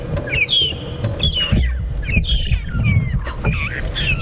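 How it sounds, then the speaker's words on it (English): A dense chorus of wild birds on an afternoon sunset safari drive: magpie shrikes, starlings, fork-tailed drongos and a hornbill calling from one big tree, with overlapping whistles, squawks and chattering notes over a low rumbling background. "We've got magpie shrikes calling. There's some starlings, some fork-tailed drongos, and a hornbill, all in this big tree just to the left."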